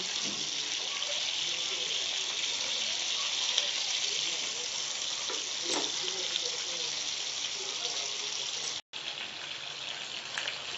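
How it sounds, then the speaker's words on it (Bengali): Kalibaus or rohu fish fries lightly in a pan with a steady, even, fairly faint sizzling hiss that runs nearly unbroken throughout. "মাছটা আসলে হালকা করে ভেজে নেব"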